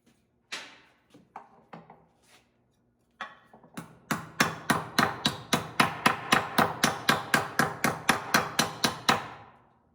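A hammer beats on a steel flanged panel during metal shaping, starting with a few scattered taps and then settling into a fast, steady run of sharp, ringing strikes close by.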